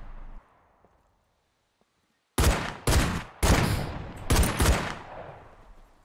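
Video game SCUM gunfire as a weapon's magazine is emptied: after a quiet stretch, five loud bursts of automatic shots in quick succession, close and sharp, with no talking over them.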